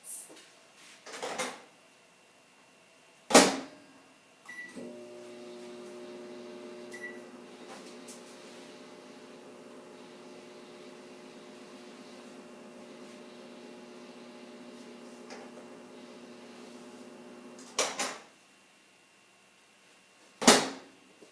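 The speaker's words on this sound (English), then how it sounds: "I'm going to give it about 10 more seconds in the microwave." A microwave oven reheating food runs with a steady low hum for about thirteen seconds between sharp clicks and clunks of the door and buttons, with a final beep-like thud after it stops.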